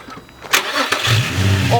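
A crashed red Nissan 350Z cranks and its engine catches, then settles into a rough, steady idle close by, with voices talking over the start.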